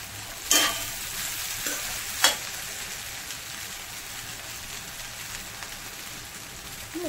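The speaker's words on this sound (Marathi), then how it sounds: "मीठ घालून घेऊयात. छान असं मिक्स करून घेऊया." Sabudana khichdi with salt being stirred in a pan: a soft, continuous scraping and sizzle with a couple of sharper clinks of the spoon near the start, close and fairly quiet.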